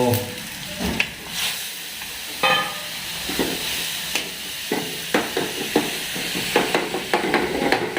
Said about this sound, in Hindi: तो मूंगी की दाल के साथ मैं अब ये बना रहा हूँ, तड़का लगा रहा हूँ।